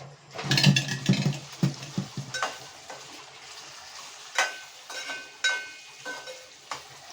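Bitter gourd frying in a pan with curd, salt and turmeric, stirred with a spoon that scrapes and knocks against the metal in a string of sharp, close strokes over a soft sizzle.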